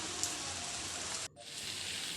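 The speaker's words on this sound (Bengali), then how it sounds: "আর এদিকে দেখো কীরকম বৃষ্টি হয়ে চলেছে, সেই সকাল থেকেই বৃষ্টি পড়ছে।" Steady rain falls as a dense, even hiss of drops with no voices, broken by a brief dip in the sound just past the midpoint before the downpour resumes.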